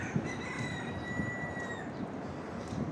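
A rooster lets out a single drawn-out crow from a short distance in an outdoor fenced run in Torrevieja, Spain, over a rough, noisy background.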